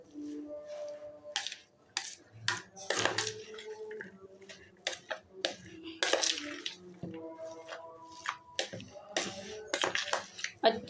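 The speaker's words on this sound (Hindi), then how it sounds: "अब ये सारी चीज़ों को पहले आपने मिक्स करना है" Close, irregular clinks, scrapes and wet squishing as a spoon mixes potatoes with salt and spices in a bowl for a quick breakfast dish, steady through the stretch with no talk.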